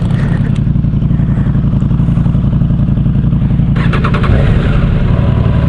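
A motorcycle engine rumbling loud and close, running steadily throughout with a brief burst of revving near the end, no talking.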